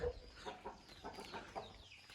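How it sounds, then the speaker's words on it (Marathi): Large village roosters and chickens in a coop cluck in a steady series of soft, rhythmic bursts, close by, with no talking. "बघा भरपूर मोठे मोठे कोंबडे आहेत इथे"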